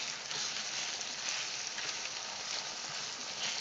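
Onions and seafood frying in a pan for stir-fry noodles, giving a continuous bright sizzling hiss at an even, moderate level throughout.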